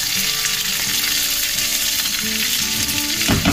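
Food frying in a pan of hot oil, a loud, dense, continuous sizzle close by with faint stirring and a low hum beneath, no speech.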